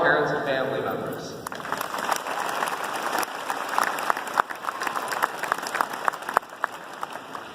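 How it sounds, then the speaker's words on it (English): Audience applause at a 2017 valedictorian graduation speech, dense clapping swelling after a voice fades out and continuing steadily with sharp individual claps standing out. "a round of applause for all our parents and family members"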